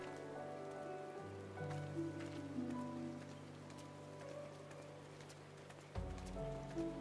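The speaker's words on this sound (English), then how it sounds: "It's raining." Rain falling in The Black Shroud in an online role-playing game, a soft steady patter on surfaces beneath droning ambient music tones, fairly quiet and continuous.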